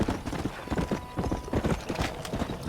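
A horse's hooves clip-clop steadily in Red Dead Redemption, a rhythmic trot of close, clear hoofbeats over a dense layer of game ambience.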